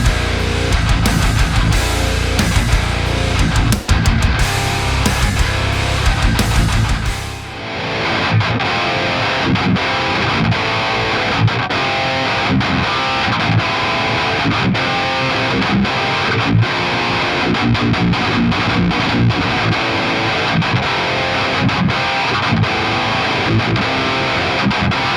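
Heavily distorted electric guitar plays loud, driving riffs through NeuralDSP Fortin and Omega amp plugins, with a brief pause before the playing continues in a tighter, chugging tone.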